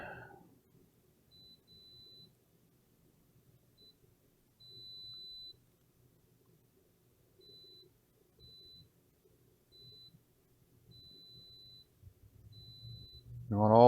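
A multimeter on continuity test beside an Xbox One X with no picture gives a series of short, faint high beeps, one held longer, at irregular intervals amid quiet handling noise.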